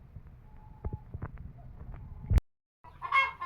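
A Cochin rooster, a giant breed, lets out a loud hoarse call at the end, preceded by low clucks and scuffling noises close by.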